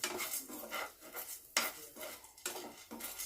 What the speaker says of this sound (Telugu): మినప్పప్పు ఇవి కూడా దారగా వేయించుకోవాలి